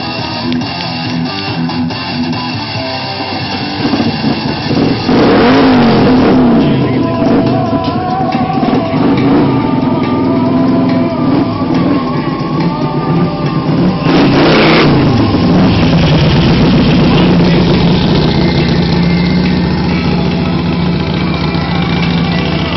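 A car does a burnout at a 2013 motor event in Vantaa, revving hard and burning rubber. The engine roars loudly and steadily, with two big rising surges of revs over a continuous drone.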